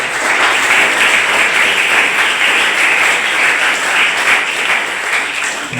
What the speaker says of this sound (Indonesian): Sekali lagi mari kita beri tepukan aplaus untuk Pak Ismail.